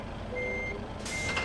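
Reversing beeps from a truck hauling a 21-ton trailer of potatoes in Euro Truck Simulator 2, a steady repeated tone pulsing over a low engine rumble, with a brief hiss near the end.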